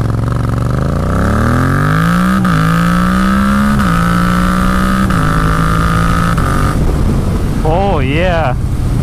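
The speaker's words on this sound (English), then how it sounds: "Hopefully I can hit a red light somewhere and I can actually give it like full throttle." Yamaha MT-07 motorcycle with a quickshifter accelerating at full throttle, engine pitch climbing steadily through several quick, clean upshifts, loud and close, ending in a brief wavering rev.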